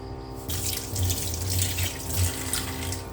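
A tap runs steadily into a sink while fish is washed under it, a close, continuous splashing stream after a brief quieter start.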